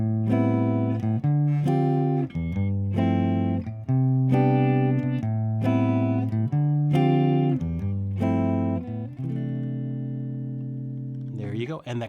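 Clean electric jazz guitar plays a slow chord turnaround, a sequence of sustained chords each ringing for a beat or two before changing, ending with a brief scrape.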